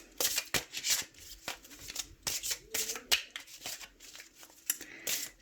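Tarot cards being shuffled by hand, a run of quick crisp riffling and slapping bursts in an uneven rhythm, close and fairly soft, with no talking.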